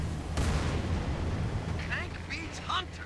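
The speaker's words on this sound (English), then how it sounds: "Just some firing main cannons at hunters." A tank fires its main cannon at Hunters in the video game Halo 3, sending out a deep booming blast. Rumbling battle noise and chattering game effects follow at moderate loudness.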